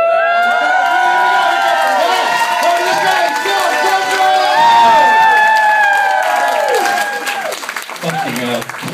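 A comedy club audience cheers, whoops and applauds loudly for a stand-up comic taking the stage, a dense sustained roar of clapping and shouts that thins toward the end.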